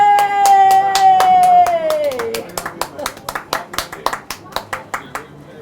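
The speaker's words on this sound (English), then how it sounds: "Can I get a round of applause for that, Anna?" Audience applause for a tribute act performer, starting under a sustained sung or held tone and becoming a string of sharp, fairly close hand claps in a loose rhythm that thins out toward the end.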